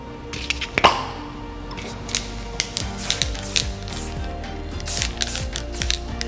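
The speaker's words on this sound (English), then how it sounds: "And then we'll go through and we'll spray." Several short hissing bursts of aerosol hairspray, close and sharp, interspersed with small clicks and handling noises.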